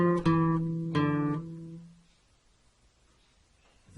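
Plucked guitar notes on a five-string guitar, a sustained open note followed by a second attack, ringing out and decaying into near silence before a faint noise at the end.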